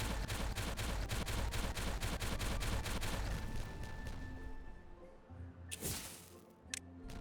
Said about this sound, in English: So we're going to start with the explosions.